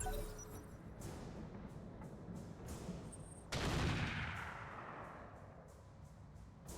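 Ballistic weapon fire in the RogueTech mech combat game: faint, distant rumbling booms, then one sharper blast partway through whose echoing tail slowly fades.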